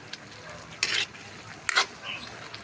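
Egg and bitter melon fry in a pan, a soft steady sizzle broken by two quick, loud scraping strokes of a utensil as the mix is stirred.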